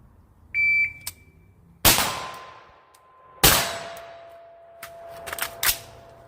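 Rifle shots from an SPR fired at far and then close targets, a few sharp loud cracks spaced apart with ringing steel-target pings in between, no talking.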